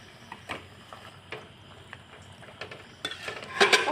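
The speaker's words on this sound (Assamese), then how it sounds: "ঢাকাই পৰঠাটো এনেদৰে ওলট পালট কৰি ভাজি লৈ আছোঁ।" A Dhakai paratha fries in oil in a pan with a soft, faint sizzle, punctuated by scattered light clicks and scrapes of a utensil, growing a little busier and louder at the end.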